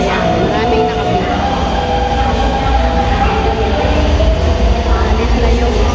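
An MRT metro train on Taipei's line pulls out of a busy station, a loud steady rumble of wheels and motors with tonal whine and rattling that persists throughout.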